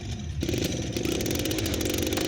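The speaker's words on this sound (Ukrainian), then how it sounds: "Заводимо трактора" A tractor engine starts up in Farming Simulator 17, a sudden burst into a rough, buzzy running drone that holds steady and fairly loud after the start, with no talk.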